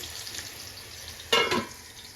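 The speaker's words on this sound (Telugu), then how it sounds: "కాకరకాయ అయితే ఫ్రై అవుతూనే ఉంటుంది" Bitter gourd pieces fry in a pan with a faint, steady sizzle that swells briefly into a louder crackling burst partway through before settling back to a low hiss.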